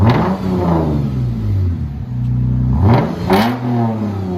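2016 Lexus GS 350 F Sport V6 with true dual exhaust and Dynomax Race Bullets revving up and settling back twice, a smooth, deep, loud growl from close by, with no rasp and no talking.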